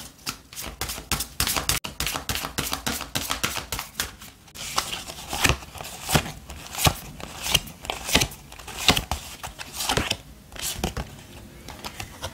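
Oracle cards being shuffled by hand, a quick run of sharp papery flicks and riffles in uneven bursts, close and fairly quiet, with brief pauses between shuffles and no talking.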